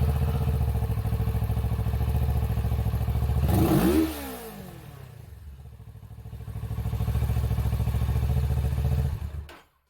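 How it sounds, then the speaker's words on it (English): A Kawasaki Z650 motorcycle with its original muffler, running at a steady idle, revved briefly, settling, then swelling again before cutting off; close and continuous, no talk. "But I want to start it and see where we're at right now with the original muffler."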